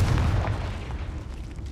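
Fiery Confringo spell blast in Hogwarts Legacy, a deep booming burst at the start that rumbles and fades over the next second.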